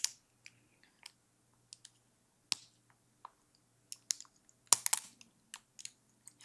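Plastic makeup brush packaging is opened with faint, sparse clicks and crinkly snaps, mostly isolated ticks with a short busier cluster near the end, close and quiet, with no speech.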